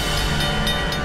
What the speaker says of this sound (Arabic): هذا هو قطار موجو من الذهب